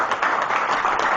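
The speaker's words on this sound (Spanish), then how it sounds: "Dale un aplauso al Señor" A church congregation breaks into applause, a short wash of continuous clapping at moderate loudness that fills the room without a break.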